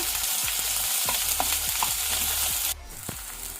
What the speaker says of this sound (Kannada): ಇದನ್ನು ನಾವು ಸ್ವಲ್ಪ ಮೊದಲಿಗೆ ಫ್ರೈ ಮಾಡ್ಕೊಳ್ಳುವ.